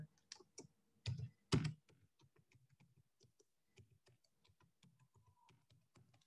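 Typing on a computer keyboard while entering a command, with a few loud early key strikes followed by a steady run of light, quick clicks, close by and with no one talking.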